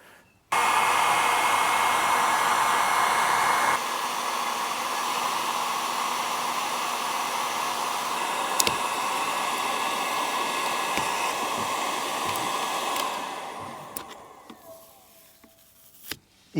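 A heat gun blows steadily and loudly while warming stickers on a BMW E39 so they can be scraped off. The airflow runs continuously with a slight drop in tone partway through, then tails off and cuts out near the end.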